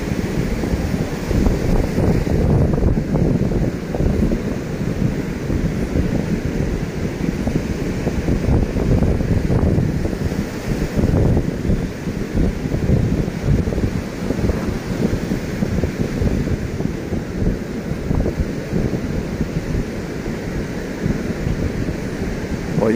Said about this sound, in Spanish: Esa es la playa del Mayan.